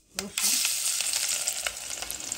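Garlic hits hot oil already holding panch phoron and dried chilli for a masoor dal tempering, bursting into a loud, close sizzle that crackles steadily, with a spoon occasionally scraping through it.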